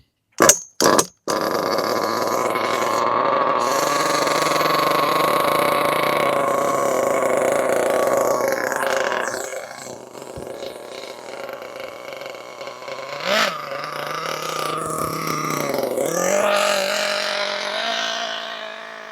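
A Losi 8ight ready-to-run nitro RC car engine held at three-quarter throttle during break-in, a loud, steady buzzing drone that dips briefly mid-run and then rises again, preceded by a few short sharp bursts at the start.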